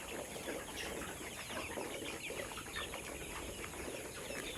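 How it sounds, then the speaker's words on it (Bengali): Nourish layer chickens about 62 days old on a farm, making soft clucks and scattered wing flutters amid a dense, faint, steady background of flock noise. "নারিশ লেয়ার মুরগি"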